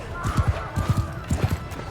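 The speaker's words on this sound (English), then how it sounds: "Horses hitting them in the rear." Horses charge in battle in Mount & Blade II Bannerlord, a rapid run of heavy hoofbeats pounding in close clusters, loud and near, with battle noise behind.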